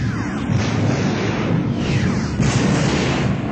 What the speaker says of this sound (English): The blast started a chain reaction of internal explosions.